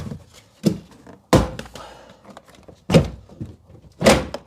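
Plastic door card trim panel on a Nissan Micra K12 being prised off its poppers, giving several sharp separate thunks and clicks at irregular intervals, close and fairly loud with no talk.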